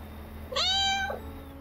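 A cat riding in a truck cab gives one clear, drawn-out meow that rises and then falls, close and distinct over a low, steady engine hum.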